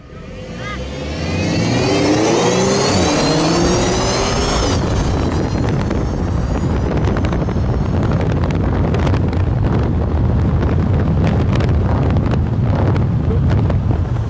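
A Mercedes-Benz SLC 200 engine roars up hard from a standstill, loud and sustained with heavy wind rush buffeting the microphone.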